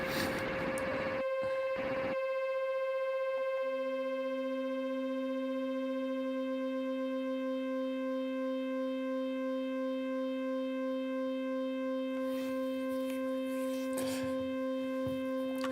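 A synthesizer tone with its filter cutoff opened all the way, heard as a steady sustained buzzy pitch with strong harmonics, joined partway by a second lower tone, with noisy bursts near the start and end.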